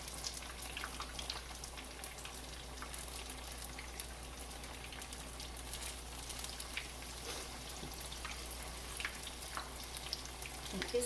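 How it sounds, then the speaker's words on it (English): Hoe cakes of hot water cornbread with onions, cheese and jalapenos fry in grease, making a soft, steady crackling sizzle with scattered pops, quiet and continuous. "Let me get the rest of these in the grease."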